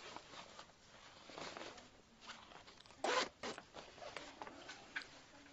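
A zipper on a pocket of ripstop tactical pants is pulled once quickly and sharply up close, amid soft fabric rustling and handling noises in a quiet room.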